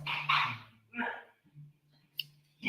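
A dog barks in several short, excited bursts close by, with quiet gaps between them and no one talking.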